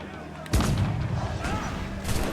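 A loud explosion in Assassin's Creed IV Black Flag bursts in abruptly with a deep booming onset, then rumbles on with crackling debris, and a second blast-like surge follows near the end.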